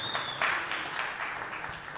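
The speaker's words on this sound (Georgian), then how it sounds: "აპლოდისმენტები გთხოვთ" Audience applause at a press conference ahead of a GAMA MMA 3 fight event: a steady wash of clapping from a crowd, moderately loud and sustained for the whole stretch, with a brief faint whistle-like tone near the start.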